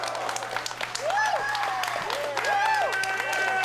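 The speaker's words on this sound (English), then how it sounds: "Hearing the applause of the fans in attendance here in Berwyn" Fans at a live wrestling event in Berwyn applaud in a steady patter of clapping, moderately distant, while a commentator talks over it.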